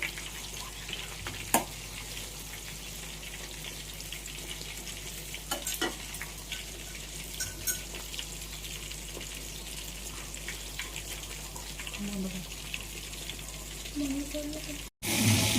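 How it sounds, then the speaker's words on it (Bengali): Continuous sizzling of bora fritters frying in oil, with occasional clinks and stirring sounds, steady and close for the whole stretch. "আজকে আমাদের এই বড়াগুলো কি সুন্দর ভাজা হচ্ছে"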